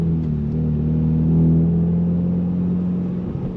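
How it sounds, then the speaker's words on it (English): A 2026 Ford Mustang with a 4-cylinder turbo engine accelerates on throttle, a loud, close, steady mid-pitched drone that swells briefly and then holds, with no talking. "when you go on throttle, it does sound like a 4-cylinder turbocharged engine"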